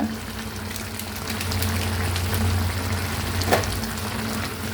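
Soya chunk (meal maker) gravy bubbling in a pan, a continuous close simmering hiss with faint pops and a low steady hum beneath, no voices.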